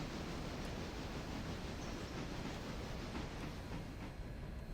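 Locomotive rolling along rails in the train game Railroader, a dense, steady rumbling roar with no breaks, close and continuous.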